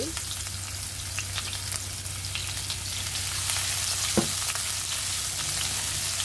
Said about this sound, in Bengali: আমি এখানে রসুন কুচি দিয়ে দিচ্ছি, আদা কুচি দিয়ে দিচ্ছি